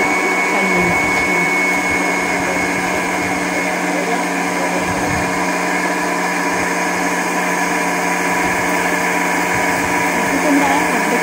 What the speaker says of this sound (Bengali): তারপরে মিক্সির ঢাকাটা বন্ধ করে আবার চালিয়ে নিচ্ছি